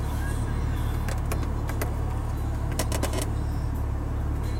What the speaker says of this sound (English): Let's see if we can open that sunroof here.